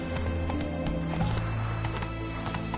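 Horse hooves galloping in The Witcher 3, a steady, rhythmic clip-clop running under a continuous game soundscape of music and ambience for the full span.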